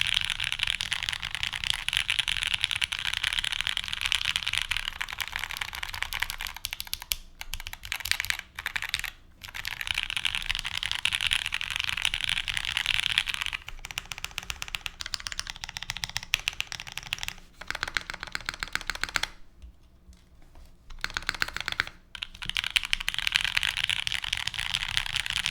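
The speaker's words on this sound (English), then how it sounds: "Your coworker's keyboard sounds like this." Fast typing on a Wind X80 keyboard with a PP plate and Nixie switches, dense rapid clacks in continuous bursts with a few brief pauses, close and crisp with no talk.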